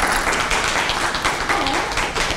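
A conference audience applauds after a talk, a dense, steady wash of many hands clapping close and loud throughout, with no voices over it.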